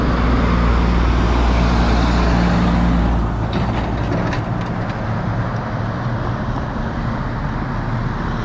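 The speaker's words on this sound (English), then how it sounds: "Truck delivering timber to the dockside" A timber-laden truck passing along a port town's high street toward the dockside, a loud heavy engine rumble that eases after a few seconds into a lower roar, with a brief hiss partway through.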